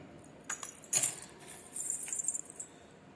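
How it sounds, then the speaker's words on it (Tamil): Silver anklet with small bells jingles in short, bright bursts, a few quick shakes close up and fairly quiet against a calm background. "ஒரே ஒரு இடத்துல மட்டும்தான் உங்களுக்கு கொக்கியில் சலங்க சவுண்டு வரும்"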